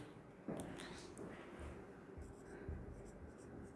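Chalk or marker scratches across a board during a Class 11 physics lesson, in short faint strokes with brief pauses, under quiet room noise.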